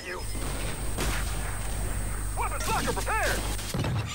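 Gunfire in Gears 5 Horde mode, a few heavy booming shots and crashes over a steady low rumble, with a person talking.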